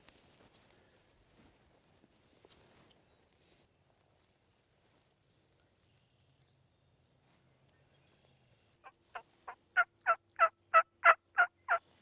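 A wild turkey gobbles in a rapid series of rising, rattling notes, clear and moderately close in quiet open Wisconsin public land, after a stretch of near silence with faint rustling.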